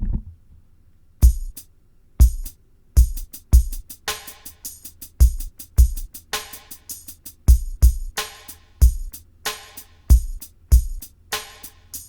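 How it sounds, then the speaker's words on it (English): A drum kit plays a syncopated beat with kick and snare hits while steady eighth-note hi-hats tick on top, close and punchy, with no talking. "if you just play eighth note hats on top of it, it'll sound like this"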